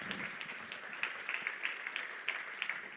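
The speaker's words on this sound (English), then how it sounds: "applause." Scattered audience applause after Simon Zadek's keynote on finance for biodiversity at Innovate 4 Nature in Lausanne, faint and somewhat distant, with individual claps popping out of a soft, steady patter for about three seconds.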